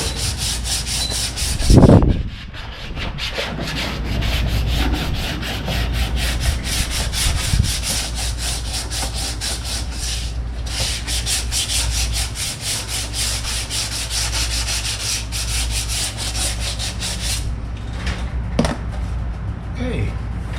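Bodywork on a 1977 Pontiac Trans Am is sanded by hand to work out small pits and roughness, a steady close scratching rub running without pause after a short thump near the start.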